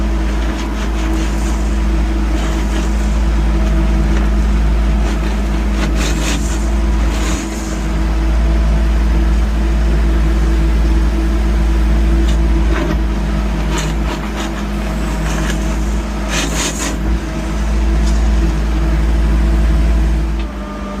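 A construction machine engine idles high during a concrete floor pour for a garage, giving a loud, steady low rumble that holds for the whole stretch with small surges and no talking.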